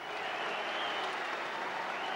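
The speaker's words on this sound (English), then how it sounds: "The crowd at the Valley absolutely buzzing for the first Cup tie to be played there for 8 years" A packed football crowd at the Valley, Charlton's ground, buzzes before an FA Cup tie, a steady dense roar of many voices and scattered claps that holds evenly throughout.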